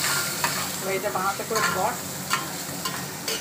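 Chicken and onion sizzle loudly in a hot pan while being stirred, with steady frying hiss and scraping strokes throughout, joined by a brief spoken voice.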